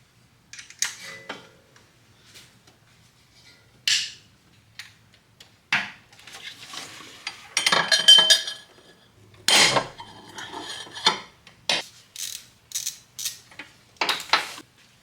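Metal clinks and rattles from a wrench working the 12 mm bolts on the timing belt tensioner of a 2007 Toyota Highlander Hybrid, in scattered short bursts with quiet gaps, close and fairly loud, no talk.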